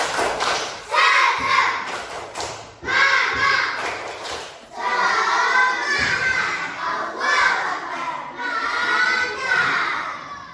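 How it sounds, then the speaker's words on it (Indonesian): Schoolchildren in a classroom perform a rhythmic clapping chant, with bursts of sharp, patterned claps mixed with their shouted, sung words, and the groups of claps repeat in lively, loud phrases. "Tepuk semangat."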